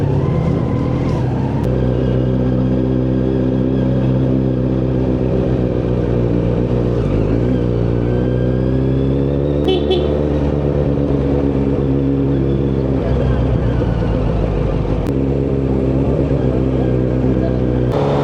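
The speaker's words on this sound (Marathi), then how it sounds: "जी आवाज आहे ना गाडीचा" A car engine runs loudly and steadily throughout, its pitch rising and falling as it revs, with a few sharp clicks.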